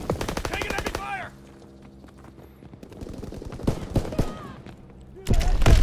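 Rapid bursts of automatic gunfire in Call of Duty: WWII domination, loud and close, with a lull of distant shots in the middle before heavy firing resumes; a voice speaks briefly over the battle.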